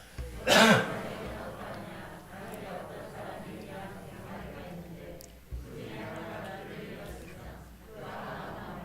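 A single sharp cough near the start during a church sermon, followed by a soft, murmuring background of room noise with faint voices.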